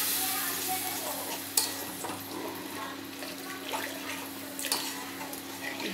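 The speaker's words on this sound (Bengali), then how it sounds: "এবার গ্রেভি হওয়ার মতো একটু জল এতে অ্যাড করে দেব" Water poured into a pan of sizzling fried spice masala for egg curry gravy, with a steady close sizzle and stirring scrapes plus a few sharp knocks, no talking.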